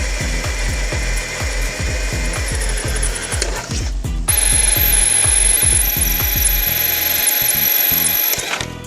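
A drill bites through aluminum-headed steel rivets on a crashed BMW X5 M50i, a loud close grinding whir with a rapid ratcheting chatter, then a higher steady whine after a brief pause.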